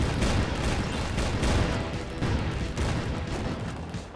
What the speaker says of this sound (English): now that El Destructo has him in the crosshairs of his basketball cannon.